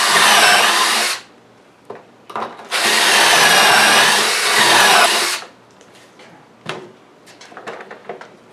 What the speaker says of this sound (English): You want to get your drill running at high speed, top RPM, before you actually enter the wood.